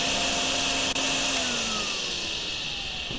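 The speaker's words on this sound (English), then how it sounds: "You can just kind of vacuum out." A vacuum cleaner runs steadily in a simulator video game, a loud close whine with a brief dip near the start, then a continuous droning suction.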